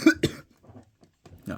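Two sharp, close coughs in quick succession, a short pause with faint breathing, then another cough begins.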